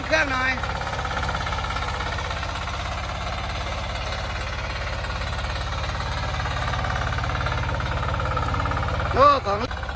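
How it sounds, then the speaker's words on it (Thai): Small homemade Thai mini tractor engine running with a fast, steady knocking chug, close and loud throughout, with a brief voice near the end. "เร่งเครื่องหน่อย"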